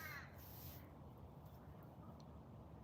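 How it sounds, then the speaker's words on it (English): A crow caws outdoors, a sharp call early on, then a steady wash of wind and ambient noise fills the rest while the bird stays quiet. "Listening to the birds speak."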